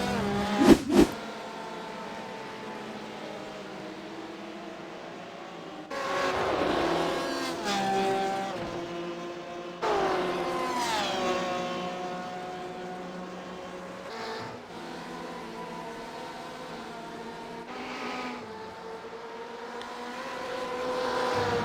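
Engine roar from GTE race cars at Monza in a sim-racing game, rising and falling as several cars accelerate and shift along the straight, with revving sweeps passing by repeatedly.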